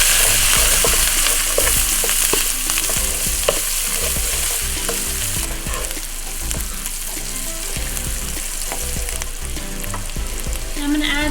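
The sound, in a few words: sun-dried tomatoes, garlic and green onion frying in a pan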